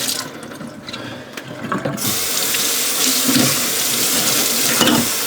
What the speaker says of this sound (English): Cold water, rinse them out.